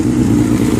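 A 2005 Suzuki GSX-R750 sport bike engine running on a cold morning in the 30s, a steady, loud, close mid-pitched idle rumble with slight clatter throughout, no voices.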